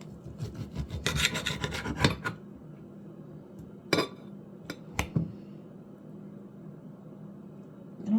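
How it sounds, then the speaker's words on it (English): A knife saws back and forth through cooked sirloin steak on a plate in a burst of rasping strokes, then a few isolated scrapes and clinks follow, close and fairly quiet. "it's time to cut this steak up. Slice it up."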